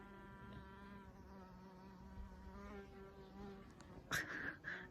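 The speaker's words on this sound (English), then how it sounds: "I feel a lot of blessings with this bee hovering around me right now." A bee hovers close by outdoors at a scenic viewpoint, its steady buzzing hum running throughout with a brief louder, sharper burst near the end as it passes near.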